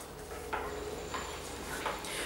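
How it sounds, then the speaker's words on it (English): Chocolate and coffee truffle mixture being stirred in a bowl, giving soft scraping and clinking strokes at a steady, unhurried pace over quiet kitchen background noise. "give it a good mix together"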